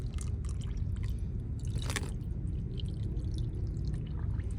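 Filtered water poured into the cells of a lead-acid battery, heard as a soft trickling pour with a few splashes and drips over a steady low background rumble.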